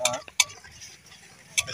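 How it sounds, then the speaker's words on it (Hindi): Schezwan sauce stir-fried in a pan, a spatula scraping and clicking against the metal in a few sharp strokes over a soft, steady sizzle, close and with no talk. "ये सेजवान है, इसको थोड़ा अच्छे से भून लेते हैं"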